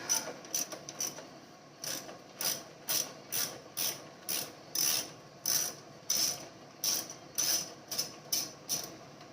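A ratchet works a rusty nut on a 2014 Craftsman 2600 riding mower, giving repeated bursts of sharp, close clicking in an even rhythm, one burst roughly every half second.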